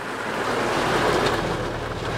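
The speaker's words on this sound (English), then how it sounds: "It's all kinds of rain" Heavy rain pours on a car windshield during a storm with sideways-blowing wind, a steady dense wash of noise that stays loud and unbroken throughout, with no voices.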